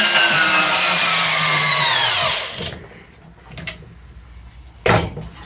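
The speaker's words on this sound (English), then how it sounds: "This is the best the Amazon drill could do" A cheap cordless drill from Amazon runs at high, loud, steady speed as it drives into wood, slowing and bogging down before cutting out, followed by a few faint knocks and one sharp thud.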